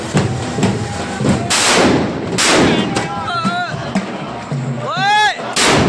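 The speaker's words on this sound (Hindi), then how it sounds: "फायर क्रैक्स होता रहता है" Firecrackers burst during a Holi village procession, a series of loud, sharp bangs and thuds spread irregularly across a few seconds, with whistling rocket-like squeals and crowd noise in between.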